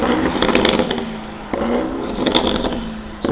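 A Pagani supercar's exhaust blares loud and close, a raspy rushing roar broken by sharp crackles and pops, with no voices over it.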